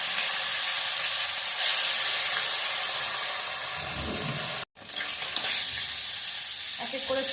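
Pieces of rohu fish fry in hot oil for a kalia, a loud continuous sizzle and hiss with bursts of spatter, briefly cut off once, then sizzling again.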